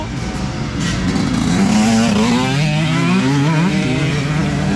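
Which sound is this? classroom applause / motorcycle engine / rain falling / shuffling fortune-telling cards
motorcycle engine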